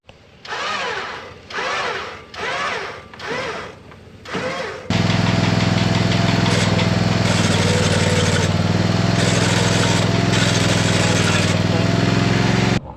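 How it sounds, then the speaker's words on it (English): A farm machine's engine during Western Australian harvest cranks in several bursts, then catches and runs loud and steady, droning continuously up close while a winch pulls a stuck part forward. "we're now just going to use the winch and hook onto it"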